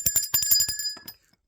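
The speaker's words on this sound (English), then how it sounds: "Let's bring the bell back." A bright bell rings in a rapid series of strikes, close and clear, then quickly fades into silence.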